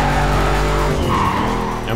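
Ford Mustang GT in the racing game Need for Speed Carbon, engine droning loud and steady while the tires skid through a turn, the whine dropping near the end.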